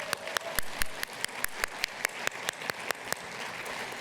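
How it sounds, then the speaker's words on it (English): Applause at a women's awards gala in Nanaimo, with single loud claps standing out in an uneven rhythm over a soft, steady patter from a moderate crowd. "Let's give a round of applause."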